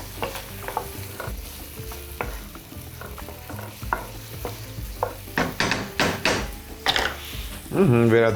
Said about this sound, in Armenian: մյուս բաղադրիչը դա չիլի պղպեղն է, 1 չիլի պղպեղ, կտրատում ենք օղակների և ավելացնում։